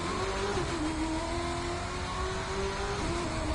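A race car engine in The Crew 2 downshifts from third to second gear while coming fast into a hairpin on a Chicago street circuit. The revving tone is steady and droning, with its pitch shifting slightly, and no voice is heard over it.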